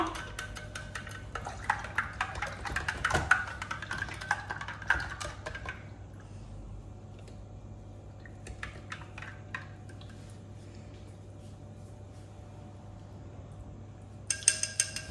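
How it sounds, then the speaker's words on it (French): Spoon stirring sugar into a drink, likely a homemade lemonade, in a home kitchen, giving a steady run of close, light clinking and scraping against the glass for several seconds, then quieter gaps and a brief final burst of clinks. "on remue pour mélanger le sucre"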